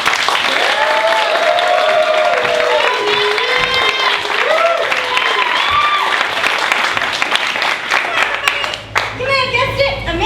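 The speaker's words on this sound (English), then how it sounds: "let's give her a big round of applause" Applause from an audience at a live comedy monologue show, steady clapping with scattered cheers running under a speaking voice and vocal sounds for about ten seconds.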